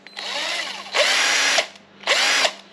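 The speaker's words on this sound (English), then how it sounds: "It's just a rotary buffer" An AC Delco rotary buffer for denibbing and polishing paintwork whirs up in three close, loud bursts: a long first run, then two shorter spins with brief pauses between, and no talking.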